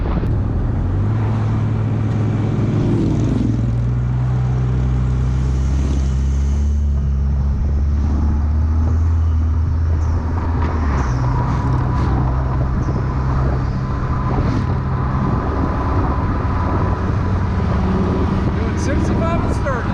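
Motorcycle cruising at about 65 mph on a road at the Sturgis rally in South Dakota, a loud steady engine drone with heavy wind rush throughout, while someone talks over it.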